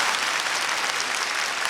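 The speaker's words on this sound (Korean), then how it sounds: "박수할까요?" Church congregation applauding during a Sunday worship service, a dense, even wash of clapping filling the hall for a short stretch with no talk over it.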